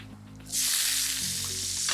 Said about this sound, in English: We'll place that back on the heat and then in with our capsicum.